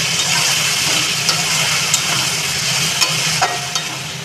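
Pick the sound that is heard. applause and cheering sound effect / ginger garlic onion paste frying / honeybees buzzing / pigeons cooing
ginger garlic onion paste frying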